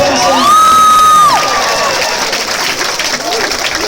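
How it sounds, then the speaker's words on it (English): A grad night hypnotism show audience applauds and cheers, loud whoops and shouts over clapping that tapers off, with a voice briefly sounding over the crowd. "give him a round of applause"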